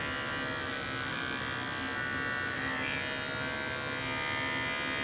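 Electric clippers run continuously on a dog, giving a steady, close mechanical buzz with a bright whine that holds level throughout, with no talk.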